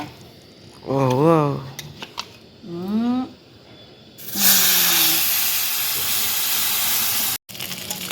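Small karandi fish frying in hot oil, a steady broadband sizzle that starts abruptly and holds loud and close for several seconds, with a brief cutoff near the end; people talk before the sizzle begins and a voice briefly continues over it.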